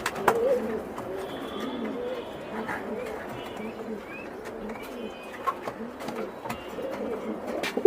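Pigeons coo softly and repeatedly at a pigeon farm in Mirpur, Dhaka, a steady low murmur of overlapping calls with a few chirps and background voices.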